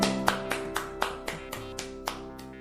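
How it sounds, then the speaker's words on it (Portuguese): Applause sound effect in a narrated audio story: about ten evenly spaced single handclaps in a slow steady rhythm, fairly faint, over sustained background music. "Houve palmas vindas de Engus, que parecia apoiar minha ideia."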